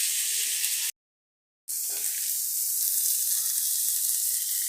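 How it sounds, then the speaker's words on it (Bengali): Onion, garlic and green chili frying together in oil make a loud, dense, steady sizzle close by, interrupted once by a short gap of silence before the hiss resumes unchanged. "শাক এখন ভাজা হবে, তেল দেওয়া হয়েছে, পেঁয়াজ রসুন কাঁচা লঙ্কা, চিড়ে দেওয়া কাঁচা লঙ্কা একসঙ্গে দেওয়া হয়েছে।"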